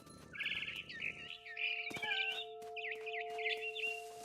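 Bird chirping from the video game What Remains of Edith Finch, a run of bright, quick tweets and warbling calls over steady tones, close and fairly loud, alone with no talk.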